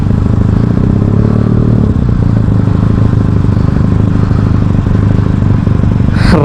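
Benelli motorcycle engines rumble loudly and continuously at a large bike rally on World Motorcycle Day, a dense close drone of idling and revving bikes filling the road.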